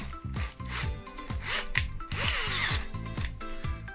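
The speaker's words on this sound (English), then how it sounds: "we put on a much bigger drill bit and then we drill easily on this side" A power drill fitted with a much larger bit bores into a 3D-printed part for an RC Volvo EC550EL excavator model, giving a close, loud, whirring motor hum with grinding rasps as the bit bites.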